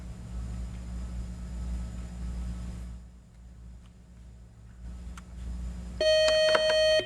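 Electronic buzzer on a high school quiz bowl show sounds briefly near the end, a sharp tonal blast with harmonics after several seconds of quiet room hum.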